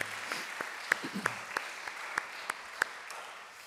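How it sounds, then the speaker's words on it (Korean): Scattered, sparse hand claps from a small church congregation at a Sunday service, with distinct individual claps standing out over a soft background. "우리 모든 영광을 하나님께 돌리며 우리 크게 박수하겠습니다."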